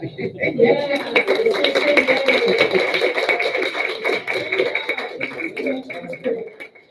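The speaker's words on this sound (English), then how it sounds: "Let's give Oscar another round of applause." An audience applauds a speaker at a morning event, steady dense clapping throughout with voices audible underneath.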